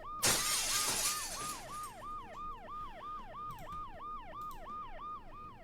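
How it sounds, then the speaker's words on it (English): In the video game Dead Synchronicity, glass shatters in one loud crash while a wailing ambulance siren sweeps up and down repeatedly and keeps going after the breakage fades. "The noise the ambulance makes will cover the sound of the glass breaking."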